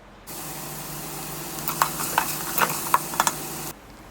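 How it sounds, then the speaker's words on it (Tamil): Onions frying in a pan in oil until golden brown, a steady close sizzle with a run of sharp spatula scrapes and stirring clicks toward the end, no talking. "இப்போ வெங்காயத்தை ஃப்ரை பண்ணி எடுத்துக்கலாம்."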